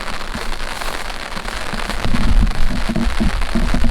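Steady rain falls on Jeju Island as a continuous broadband patter, moderately loud and close, with the surface hiss thickening and growing a little louder in the second half; no voices are present.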